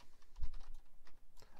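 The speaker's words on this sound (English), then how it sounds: "so I'm just going to type in create and user. Sorry, my typing's terrible." Typing on a computer keyboard while entering database commands, a quick irregular burst of close clicking keystrokes and clacks, with no one speaking.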